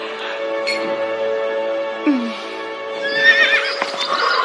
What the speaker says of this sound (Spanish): ¿Cómo se llaman los caballos?